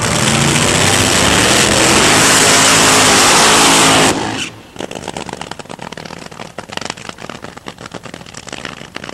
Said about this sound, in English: the green light is on, and Dunn is underway down the quarter mile in his qualifying attempt.